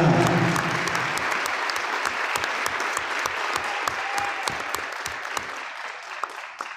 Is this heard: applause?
yes